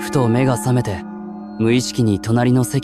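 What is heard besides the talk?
No everyday noises stand out.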